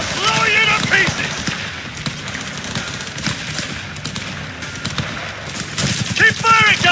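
Rapid bursts of gunfire in the Cyberpunk video game crackle steadily throughout, loud and dense, with shouting voices over the shooting near the start and end.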